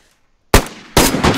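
Two loud gunshots in the video game DayZ, a sharp crack followed about half a second later by a second blast, both close and alone after brief silence.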